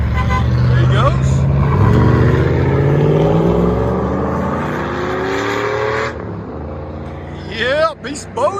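A 2021 Cadillac Escalade 6.2L V8 with a Flowmaster FX exhaust in place of the stock rear resonators revs hard, a deep rumble rising and falling as it accelerates away, with a person talking over the end.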